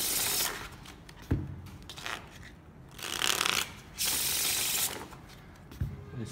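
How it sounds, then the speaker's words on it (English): Playing cards are shuffled close by in repeated bursts of rapid riffling, each lasting a second or two, separated by brief pauses and a couple of sharp taps as the deck is squared, with no talk. "We shuffle the card."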